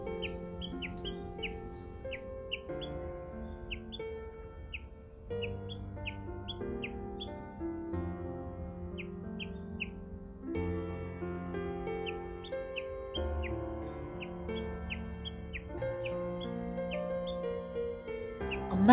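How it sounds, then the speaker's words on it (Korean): A baby bird in a bush calls out persistently, a string of short high chirps repeating in quick clusters throughout, faint against a steady layer of background music. "덤불 속에서 열심히 소리를 지르던 아기 새"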